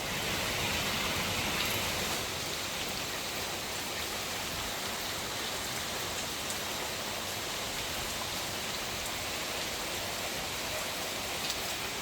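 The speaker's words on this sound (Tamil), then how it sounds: "சும்மா நோமலாக துமிச்சு கொண்டு இருந்த மழை கொஞ்சம் பிளத்திருக்குது." Steady rain falls over Jaffna as a storm sets in, a drizzle thickening into heavier rain with some wind, making a dense, even hiss that fills the whole stretch with no voices.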